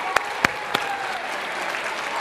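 An audience claps for a child at a school reading program, a continuous crowd applause with a few sharp louder claps standing out near the start, fairly close and even.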